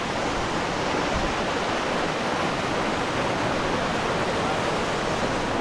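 A waterfall in Rishikesh roars steadily and close, a dense broadband rush of falling water that holds evenly throughout with no voices over it.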